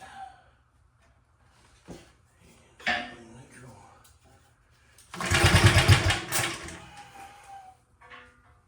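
A Wheel Horse RJ 58/59 lawn tractor engine, choked for a first start after several days, cranks with scattered clanks and short bursts, then catches in a loud rough burst of a couple of seconds before fading; a few faint voice sounds occur.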